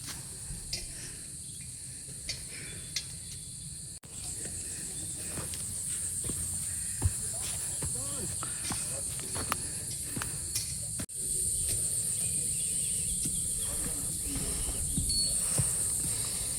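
In humid mountain air on a forest trail, insects keep up a constant high chirring drone, with faint scattered rustles and steps close by.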